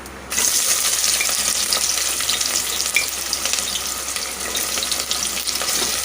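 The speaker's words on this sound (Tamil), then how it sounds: "தாளிக்கிறதுக்கு வெங்காயத்தை சேர்த்துக்கலாம்" Onions sizzle loudly in hot oil while tempering for Chettinad mutton curry, a dense, steady crackle that starts abruptly and continues throughout with small pops.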